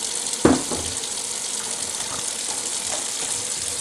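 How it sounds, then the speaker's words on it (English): Warm water runs steadily from a tap into a container, a continuous hissing stream with a brief clunk near the start. "Fill it up with warm water."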